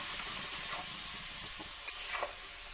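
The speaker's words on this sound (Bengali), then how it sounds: "এবার ভেজে একটু মশলাটা হবে আমার" Spices with a splash of hot water sizzle in a pan for Bengali masala khichuri, a soft steady hiss with a few light scrapes of a spoon stirring near the end and no talking.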